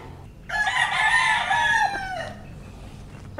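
A Tagalog fighting rooster crows once loudly and close, a single drawn-out cock-a-doodle-doo lasting under two seconds before fading into quiet yard ambience.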